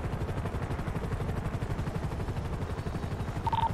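Rapid automatic gunfire from a police shooter game, a dense, steady stream of shots rattling continuously at close range, loud and without pause, with a short electronic tone near the end.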